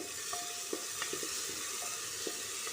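Mustard seeds sizzle in hot oil with a constant bright hiss, while scattered small pops and light scraping stirs punctuate it at close range.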